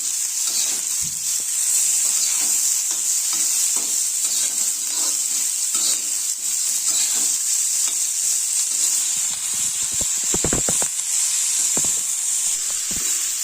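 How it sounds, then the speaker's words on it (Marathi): Finely chopped onion sautés in a pan for a Marathi vegetable dish, a loud, constant sizzle running throughout, with scattered scrapes and clicks of stirring toward the end. "त्याच्यामध्ये हा बारीक चिरून घेतलेला कांदा टाकूया आपण लागेल तेवढा थोडा टाकूया त्याला परतून घेऊ आपण"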